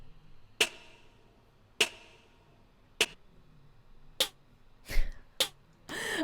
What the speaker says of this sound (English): the snare in this part sounds like this.